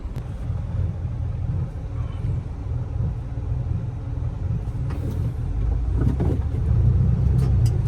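Road traffic with many vehicles, a steady low rumble of engines that swells louder toward the end as heavier vehicles pass close by.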